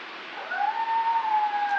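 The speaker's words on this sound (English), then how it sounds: "and that's my dog screaming" A pet dog howls and screams in a long, wavering, high-pitched wail that rises and holds for nearly two seconds, close and loud with no talking over it.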